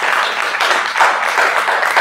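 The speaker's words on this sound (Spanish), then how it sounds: "Dele un aplauso y gracias a Dios." Applause from a church congregation, a dense continuous wash of hands clapping steadily and fairly loudly through the whole stretch with no voices standing out.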